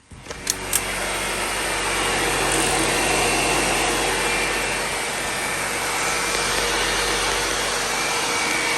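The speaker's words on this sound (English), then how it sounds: "let's test out the water pump." An electric water pump in a supercharged Pro Street Chevy Nova hums and whirs steadily for several seconds after a brief clatter at the start, running continuously at close range.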